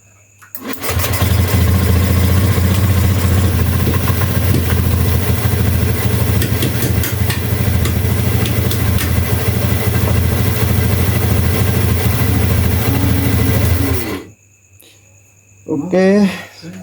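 A Honda Beat eSP scooter starts and settles into a steady, close, loud idle that lasts about thirteen seconds before shutting off, followed by a brief low sound at the end.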